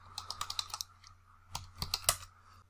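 Faint typing on a computer keyboard while writing code, two short bursts of quick key clicks separated by a brief pause.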